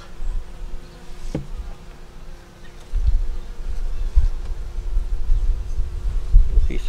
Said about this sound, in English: Got bees in here.